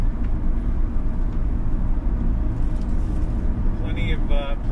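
Inside the Li'l Rascal II adventure rig van, the road rumbles at around 50 mph in a steady, loud low drone with tyre and wind noise, and a voice talks over it.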